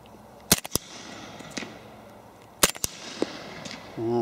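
A suppressed Glock 30 in .45 fitted with a YHM Cobra M2 on a Lone Wolf threaded barrel fires Winchester 230 grain rounds in two sharp pairs of muffled cracks, each with a quick follow-up clack of the action, heard close outdoors.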